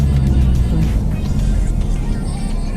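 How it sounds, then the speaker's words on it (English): Exhaust of a Mercedes-AMG A45 S Edition 1 sports hatchback while driving, heard from inside the cabin as a loud, deep, steady engine and exhaust drone with road rumble, continuous throughout. "Oh, you can hear the exhaust at the back."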